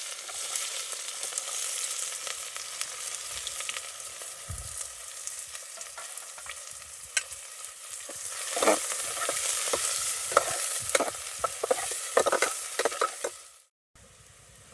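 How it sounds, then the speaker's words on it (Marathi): Finely chopped onion fries in homemade sunflower oil for tempering over a wood-fired stove, a soft continuous sizzle with scattered stirring clicks that grow busier later, then a sudden cut near the end. "याच्यामध्ये आपण बारीक चिरलेला हा कांदा फोडणीसाठी टाकला."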